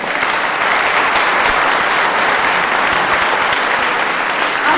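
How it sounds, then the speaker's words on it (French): A crowd at a Liberal party nomination meeting in Montcalm breaks into loud, even applause, dense clapping that holds steady without pause for the whole stretch. "peut applaudir ça quand même"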